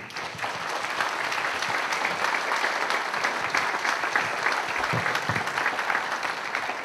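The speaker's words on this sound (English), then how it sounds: "How about another round of applause for Tom Carey?" Sustained audience applause for speaker Tom Carey at the close of his talk, dense and even clapping from a sizable crowd lasting several seconds, with no speech over it.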